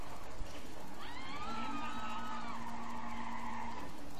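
A modified car in GTA 5 skidding and spinning out, with a rising tire squeal that sweeps up and holds for a couple of seconds over a steady engine drone, then fades.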